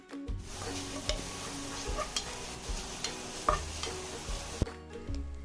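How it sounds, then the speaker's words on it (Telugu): Prawns for a biryani fry in oil until light golden, with a steady low sizzle and occasional ladle taps and clicks against the pan. The sound is close but quiet, with no voices. "ఆయిల్ వేసి బాగా ఫ్రై చేసుకోండి. లైట్ గోల్డెన్ కలర్ వచ్చేంత వరకు ఫ్రై చేసుకోవాలి."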